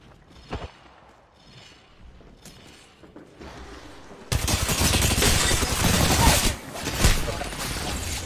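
Apex Legends gunfire starts with a few scattered distant shots. It then breaks into sustained, loud rapid bursts that fill the second half, with faint game noises before.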